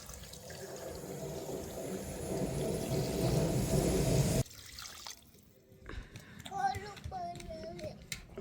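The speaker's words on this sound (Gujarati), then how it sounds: "ચાલો પાણી નાખી દઈએ" Water poured into a cooking pot over an outdoor garden stove, a steady loud splashing pour lasting several seconds before stopping abruptly, followed by quieter background with voices talking.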